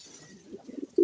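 Racing pigeons in a loft in South Antipolo give soft low coos in short repeating pulses, close by and gentle, ending in a louder, fuller burst.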